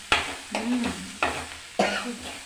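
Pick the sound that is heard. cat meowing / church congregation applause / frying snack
frying snack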